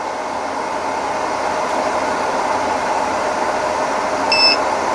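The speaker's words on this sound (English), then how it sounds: "it's only at 1300 watts, and you heard that alarm" A 1500W CNSWIPower pure sine inverter under overload sounds a brief, high electronic beep near the end, above a steady mechanical hum.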